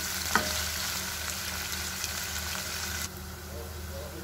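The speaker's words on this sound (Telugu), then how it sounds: "కట్ చేసుకున్న 1 ఆనియన్ లైట్ గోల్డెన్ కలర్ వచ్చే వరకు ఫ్రై చేసుకుందాం" Sliced onion frying in hot oil with garlic and dried red chili, giving a steady close sizzle with a brief utensil tap near the start; the hiss drops noticeably in level toward the end.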